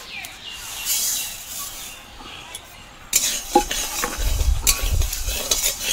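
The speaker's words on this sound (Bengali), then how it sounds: "এবার আমি ডালগুলো দিয়ে ভেজে নেবো কড়াইতে" Lentils dry-roasting without oil in a hot, dry wok give off a faint sizzle while a utensil stirs them. The scraping grows louder and more rhythmic partway through.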